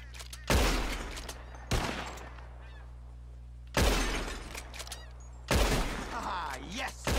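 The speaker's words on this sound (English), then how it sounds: "Whoever shoots more of these bottles wins" Four loud, widely spaced gunshots ring out in a video game bottle-shooting contest, each sharp crack followed by a ringing, honk-like tail as bottles shatter, with quiet gaps between them.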